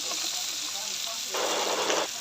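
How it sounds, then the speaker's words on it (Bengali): Small puti fish sizzle in hot oil as they fry until crisp, a steady bright hiss that flares louder for a moment, with a voice faintly in the background. "তো আমি মাছটা ভেজে নিচ্ছি"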